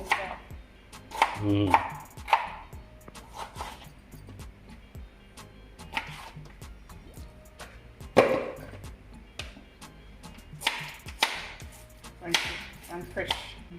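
A knife chopping through fresh carrots on a board, a rapid run of crisp, dry clicks and thunks at close range, quiet overall, with a brief word spoken partway through.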